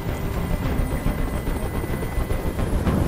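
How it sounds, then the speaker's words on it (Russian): A hovering helicopter in the video game Detroit: Become Human gives a steady, loud rotor drone with a constant whirring hum and no speech. "Как же меня бесит этот звук! Прикажи им, чтобы вертолет убрался!"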